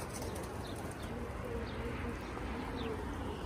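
Pigeons cooing faintly near a coop amid steady background noise, with occasional high chirps drifting in and out and no clear talking.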